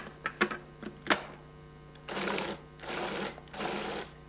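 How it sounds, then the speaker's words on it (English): A Cuisinart food processor pulsing frozen pineapple chunks with sugar: a few sharp knocks, then three loud, close whirring bursts separated by brief pauses, with a steady low hum underneath. "Add the sugar with the frozen pineapple chunks and then pulse several times to break up the fruit"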